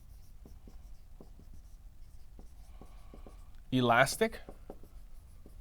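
Chalk or marker scratches on a board as a short anatomy label is written, a series of small taps and strokes while a voice speaks briefly partway through.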